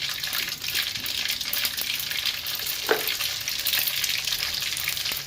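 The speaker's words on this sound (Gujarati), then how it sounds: "બરાબર રાયને બરાબર ફોડી નાખવાની" About twenty grams of mustard seeds spluttering in roughly a hundred grams of hot oil while Gujarati patra is being made: a continuous close crackling sizzle with faint pops and one brief louder splutter, and no talking.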